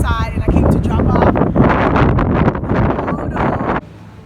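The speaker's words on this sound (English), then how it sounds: "It's so windy." Strong wind buffets the microphone outdoors beside an arts center building, a loud continuous rush with someone talking over it, cutting off abruptly near the end.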